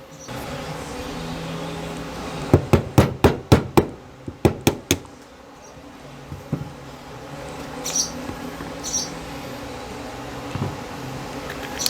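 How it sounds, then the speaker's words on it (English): A hammer drives a polymer pin out of the fire control assembly of a Ruger Max-9 pistol: about eight sharp, close taps in two quick bursts, then quieter handling noises. "To remove it, you just have to drive this one pin out."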